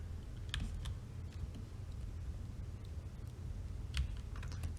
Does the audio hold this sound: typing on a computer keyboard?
yes